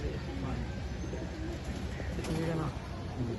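Pigeons in a kept flock coo in low, steady, overlapping calls that continue throughout, with people talking nearby.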